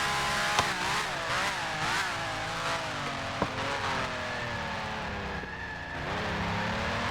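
Formula 1 race car engine in a sim racing game at Zandvoort, revs dropping and holding in a steady whining drone, with a couple of sharp clicks from shifts or bumps.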